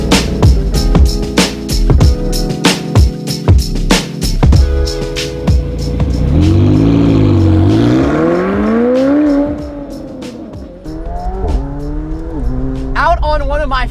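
A McLaren 720S Spider with the roof down is driven hard on a favourite road, engine revving and rising through gears with sharp rev swoops, loud and close, with brief talk early on.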